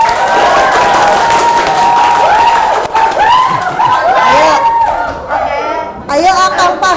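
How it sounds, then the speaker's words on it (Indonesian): A group of classmates cheers on a sales team, loud clapping mixed with shouting and excited chatter, and several voices rise and fall through the noisy, crowded burst. "Tepuk tangan."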